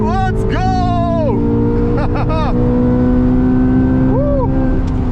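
A car accelerating hard in a drag race against a Porsche Turbo S, a loud engine drone with rising and falling revs as it shifts, heard from inside with voices over it.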